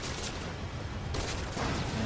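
Gunfire and an explosion in Metal Gear Solid V: Ground Zeroes, a burst of broadband shots rising to a loud blast near the end, dense and continuous over in-game background noise.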